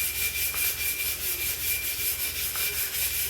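Brush scrubbing a neglected whetstone lathered with Dawn dish soap, rhythmic back-and-forth rasping strokes close up, about five per second, with no voices.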